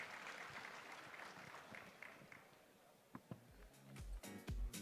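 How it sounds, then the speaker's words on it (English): Audience applause for the panelists closing a panel session on real-world digital assets and finance, a faint, distant patter of clapping that thins out over a few seconds and gives way to scattered bumps and clatter. "Let's give our panelists a round of applause."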